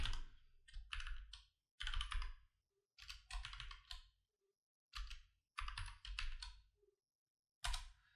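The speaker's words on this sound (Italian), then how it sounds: "Procediamo a questo punto inserendo da tastiera il primo numero" Typing on a computer keyboard while entering numbers into a C++ program, quiet bursts of close keystroke clicks separated by short pauses, with no voices.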